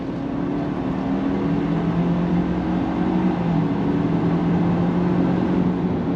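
A 2024 Ford Ranger Lariat pickup pulls hard under throttle on a test track, a steady loud engine drone with rising tonal whine heard from inside the cab, continuous and unbroken.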